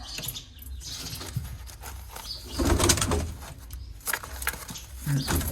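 Soft, low pigeon cooing up close, mixed with fluttering, shuffling and light pattering from the birds moving about.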